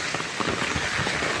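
Heavy rain during Cyclone Remal pours down as a steady, close hiss of drops striking surfaces, continuous and even throughout.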